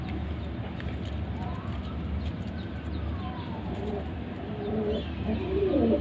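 A female Ferozpuri pigeon coos in soft, low repeated calls close by, with other birds and faint background noise around it.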